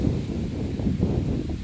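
Strong wind gusting near La Soufriere volcano on St Vincent, a steady low roar with buffeting against the microphone throughout, with no other sounds standing out.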